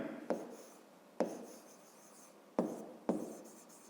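Pencil writing on paper while a fifth-grade math exercise is worked out: four quick, scratchy strokes at uneven intervals, close and fairly quiet, with no talk.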